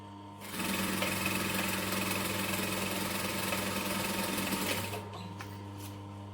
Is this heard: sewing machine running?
yes